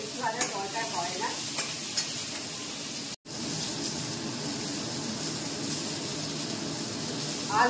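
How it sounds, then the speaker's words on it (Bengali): Cubes of potato and pumpkin fry in a pan while being stirred, giving a steady close sizzle and hiss with scraping stir strokes; the sound drops out for an instant midway, then the frying carries on. "একটু অল্প ভাজবো, এটা বেশি ভাজার দরকার হয় না।"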